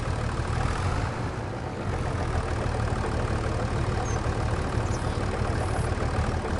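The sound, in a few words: TMR feed mixer engine in video game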